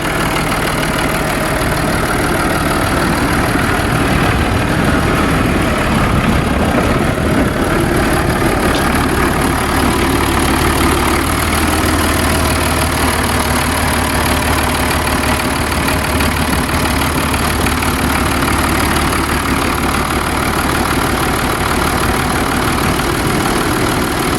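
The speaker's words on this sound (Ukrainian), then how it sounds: "Трактор" A heavy tractor engine idles steadily nearby, a loud continuous rumble with a slight knocking texture throughout.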